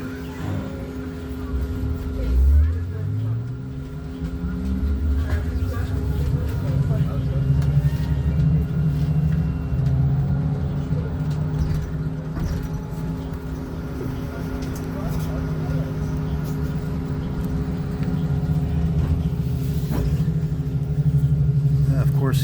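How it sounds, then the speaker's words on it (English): A New Flyer Excelsior electric city bus in Montreal's STM fleet pulls away with a rising electric motor whine, then settles into a steady low hum and rumble that continues throughout. "It's my favorite Montreal City bus, the new Flyer Excelsior. And not because it's electric."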